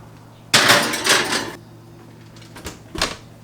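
Pan of keto chocolate chip cookie cheesecake bars slid into an oven: a loud metallic scrape and clatter of the pan on the rack, followed by a few lighter knocks as the oven door shuts.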